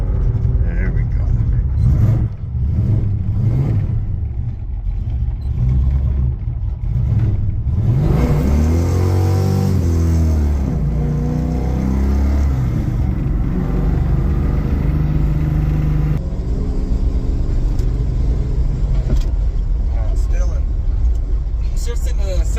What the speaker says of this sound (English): Shifts into the second pretty quick, but then it takes a while to get to third, and it's like when you let off, then it shifts.